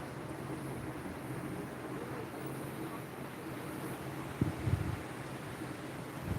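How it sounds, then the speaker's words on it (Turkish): Steady, heavy wind noise roars against the microphone throughout, with a brief low thump near the end; a strong poyraz (northeasterly) wind during wildfires in Antalya, Turkey. "Görüyorsunuz rüzgar çok fazla."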